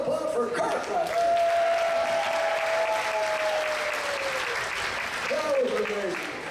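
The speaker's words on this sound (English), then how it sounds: "Another round of applause for Kirk right there." Crowd applause at a live musical variety show, sustained and fairly even, with a sustained tone and faint voices mixed in near the end.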